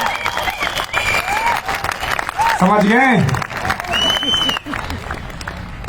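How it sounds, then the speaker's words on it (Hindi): A seminar crowd applauds in a sustained burst of clapping while someone speaks loudly over it, his voice riding on top of the steady patter throughout. "ताली ऐसी बजाओ कि अगला जन्म आपको ताली बजाने के लिए न लेना पड़े।"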